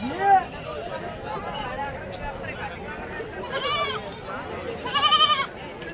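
Several goats, including a pregnant one, bleat near and far at the Rajur livestock market, wavering cries scattered across the moment, with a louder bleat near the end; faint background murmur underneath.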